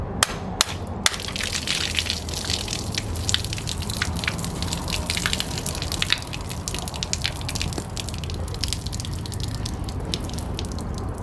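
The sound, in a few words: old water draining from a Ford 312 Y-block engine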